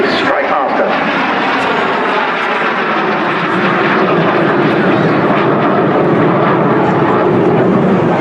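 A BAC Strikemaster jet makes a topside pass at the Torbay airshow, a loud, steady engine roar with broadband rush that swells slightly as it passes, while a commentator talks over it.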